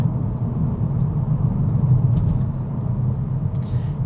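A 2025 VW Golf R in sport mode downshifting as the accelerator is released, heard from inside as a steady low engine rumble and road hum with faint higher whines near the end.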